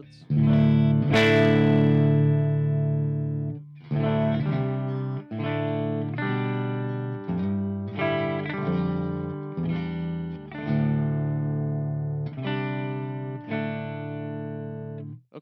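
Electric guitar played through a Fender Tone Master Pro with a high-gain metal tone and scooped mids, dry with no reverb: loud, close, sustained distorted chords in a steady chugging sequence, with brief gaps between phrases.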